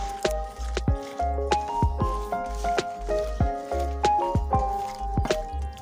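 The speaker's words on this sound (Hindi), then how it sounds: "पहले मैं इसको अच्छी तरह से मिक्स कर लूंगी। हमने अच्छी तरह से इसको मिक्स कर लेना है।" Spiced sliced onion and potato pakora batter is mixed by hand, wet squishing and slapping in a steady rhythm, with tonal ringing notes running underneath throughout.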